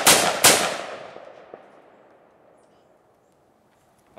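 Two loud rifle shots, including a .308, fired at an old boat outdoors, cracking in quick succession with a long fading echo, followed by a faint distant report.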